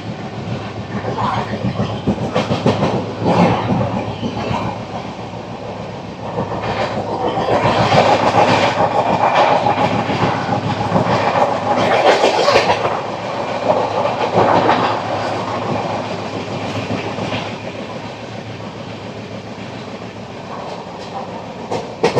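The Narayanadri Superfast Express (12734, Lingampalli–Tirupati) runs through a station without stopping, heard as a continuous rumble with rhythmic wheel clatter that swells in the middle and then eases, with no talk.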